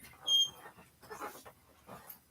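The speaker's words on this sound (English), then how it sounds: "dog didn't seem to get up." A dog whimpers indoors in a run of soft, high, broken whines and faint snuffling breaths, close by and fairly quiet, with no talking over it.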